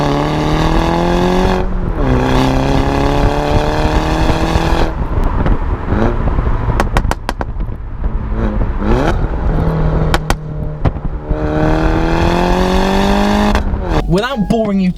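A modified Mini Cooper S engine pulls loudly and continuously, rising in pitch through repeated acceleration runs with gear changes between them, up close and steady for the whole stretch.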